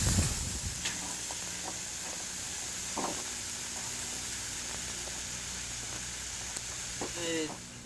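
Meat and pepper searing in a hot Dutch oven over coals, a steady broadband sizzle running throughout with occasional scraping stirs, close and moderately loud.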